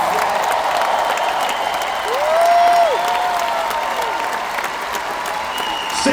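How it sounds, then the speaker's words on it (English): A church-event audience in Edmonton claps steadily with scattered cheers, a sustained crowd sound that swells briefly in the middle while a voice calls out above it. "Give a big clap if you believe this."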